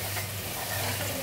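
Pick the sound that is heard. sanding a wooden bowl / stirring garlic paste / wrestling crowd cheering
stirring garlic paste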